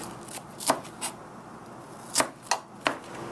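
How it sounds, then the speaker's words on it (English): A knife chops green onion finely on a board, giving sharp, close knocks in two small clusters separated by a pause, with no talking. "No, I'm chopping the green onion. So you have to chop pretty small."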